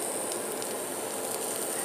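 Fresh, just-washed spinach sizzles in a hot frying pan during a quick breakfast cook, a steady close crackling hiss with no talk over it.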